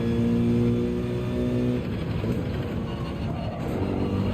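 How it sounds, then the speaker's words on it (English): A race car engine in Gran Turismo 7 during a six-hour GT endurance race at Spa: a loud, steady, droning engine note with strong low harmonics, holding high revs throughout with a slight dip midway. "I could never get tired of hearing this engine"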